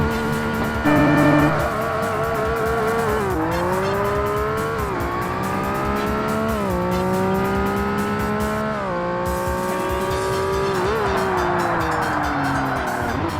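Honda NSX screaming around a track in the 2005 Forza Motorsport game, its engine note rising and dropping through repeated gear changes with tyre squeal through the corners; loud and continuous, no talk.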